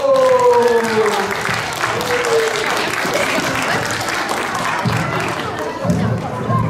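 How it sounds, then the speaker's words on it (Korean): A church congregation at a Seoul presbytery worship service bursts into loud sustained applause, with a voice speaking over the start and crowd noise underneath. "하나님께 영광의 박수!"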